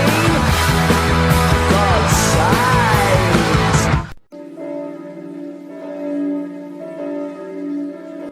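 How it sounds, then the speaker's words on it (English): Church bells peal loudly for about four seconds in a dense, overlapping clang, then cut abruptly to a quieter, sustained ringing hum that lingers and swells gently to the end. "as you can hear, the church bells are ringing"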